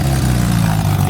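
Classic Renault 8 Gordini engine running at a classic car gathering in Louhans, a brief steady low idle hum with a faint rhythmic pulse.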